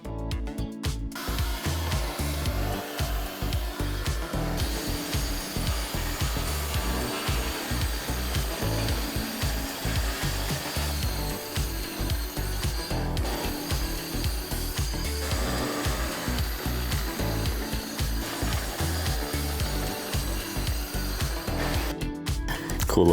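A power tool fitted with a bristled dust shroud grinding a granite surface: a loud, continuous whirring drone with a rough, pulsing texture, close up, starting and stopping near the ends.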